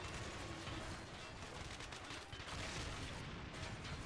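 Dense, continuous battlefield din from a military video game with Russian reinforcements landing by air, packed with overlapping gunfire, rocket fire and explosion rumble at steady loudness, with no talking.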